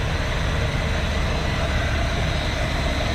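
A Jeep Wrangler TJ engine runs at raised RPM with more throttle, a steady, loud, unbroken mechanical roar with no distinct rev peaks and no talk.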